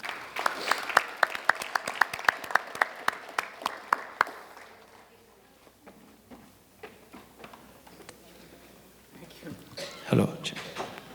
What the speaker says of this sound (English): So please give a big round of applause and welcome Dr.